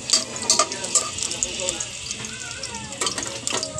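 Garlic and onion frying golden brown in a pan, a steady bright sizzle with occasional stirring scrapes and clinks throughout.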